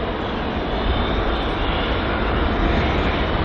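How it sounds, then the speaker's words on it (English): A British Airways A320-200 jet on approach to London Heathrow roars with a loud, broad, steady engine rush, close and sustained with no talk over it. "So just on approach now is the British Airways A320-200."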